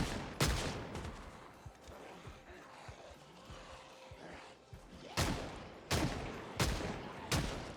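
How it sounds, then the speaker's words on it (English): Pistol shots fired at a zombie in a video game, several sharp loud bangs spaced apart, one early and a cluster of about four near the end, over quieter game ambience. "What was that, like 4 shots on a zombie that was already down?"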